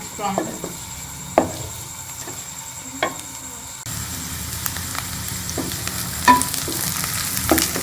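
Onions frying in a pan, cooked toward light golden: a continuous sizzle that swells louder partway through, with repeated clacks of a spoon stirring against the pan.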